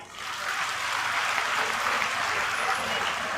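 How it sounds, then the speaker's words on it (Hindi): Audience applause at a political rally in honour of women party workers, a dense, steady burst of clapping from a large crowd lasting a few seconds. "उन महिलाओं के लिए तालियां।"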